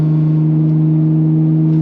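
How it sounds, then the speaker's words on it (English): Modified Ford Bronco Raptor exhaust giving a steady, loud low drone at idle or cruise, a constant deep rumble with strong harmonics that holds level throughout, with no talk over it. "You're getting tons of extra exhaust sound."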